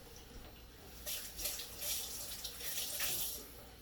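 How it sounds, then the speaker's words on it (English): Water runs from a tap in a steady hiss, with splashing as hands move under the stream, close and fairly quiet. "let me just wash my hands really quick"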